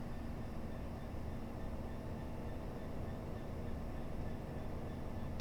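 A Class 66 diesel locomotive rumbles past in the Train Simulator game, a steady low drone with a faint tonal whine held at constant level, quiet and somewhat distant.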